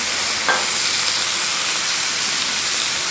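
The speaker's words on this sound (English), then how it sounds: "See if I can get this to fry up a bit." Sliced zucchini frying in oil on a Blackstone flat-top griddle, a loud, steady hiss of sizzle filling the clip with one brief scrape or tap near the start and no talking.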